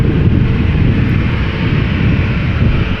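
An Air Baltic A220 jet airliner at Amsterdam Schiphol makes a dense, steady engine rumble, loud and unbroken throughout the short stretch.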